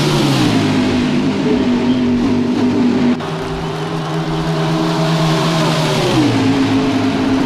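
Loud, low-pitched NASCAR stock car engines drone and rev in the video game NASCAR Heat 5, pitch dropping on a shift then rising again, no talking.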